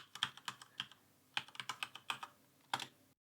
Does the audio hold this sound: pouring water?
no